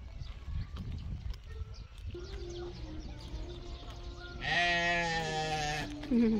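Goats bleat at a zoo in Andong, South Korea, with a loud, drawn-out bleat near the end following fainter animal calls and brief voices of visitors nearby.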